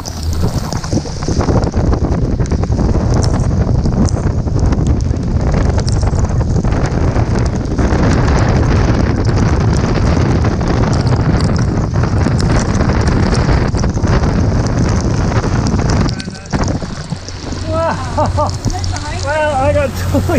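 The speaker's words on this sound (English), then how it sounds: "the wind actually pushed us right around the autopilot, couldn't cope with it" Strong wind buffets a boat out on the water, a loud, steady roar that fills the whole stretch, easing briefly near the end where a voice and some higher tones come through.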